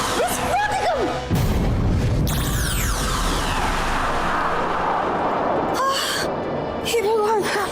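A loud, sustained roaring magical explosion in a cartoon, with swirling, sweeping tones filling the scene, broken by short vocal cries and yelps before and after.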